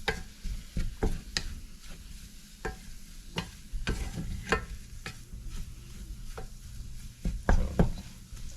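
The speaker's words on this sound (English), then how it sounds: "So I'll continually stir that for about 2 minutes, and then we'll cook that flour" Flour cooking in a pan for cheese puffs, stirred continually: a spoon scrapes and taps against the pan in an uneven rhythm over a low, quiet sizzle, close by and without talk.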